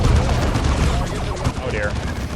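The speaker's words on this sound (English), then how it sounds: "now I need to dump a grenade here and get the hell out" Heavy battlefield gunfire and a grenade blast in Warhammer 40K Dawn of War II, a loud continuous wash of shots and booms that stays dense throughout, with a voice talking over it.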